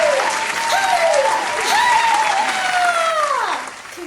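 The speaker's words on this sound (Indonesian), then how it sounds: "Mari yang percaya tepuk tangannya Maria." A church congregation applauding loudly and continuously, with gliding musical tones and singing drifting through the dense clapping before it eases off near the end.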